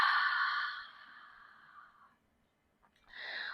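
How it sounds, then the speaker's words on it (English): A long, soft exhale out through the mouth during a yoga breathing flow, fading over about two seconds, then a short pause before a fresh breath begins. "Exhale out mouth, let it go."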